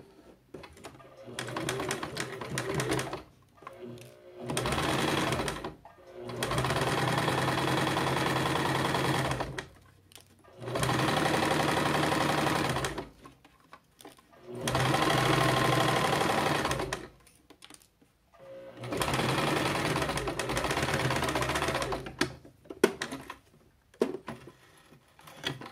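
A sewing machine stitches through quilt batting on a patchwork toiletry bag, running in about five rapid mechanical bursts of a few seconds each, separated by short quiet pauses.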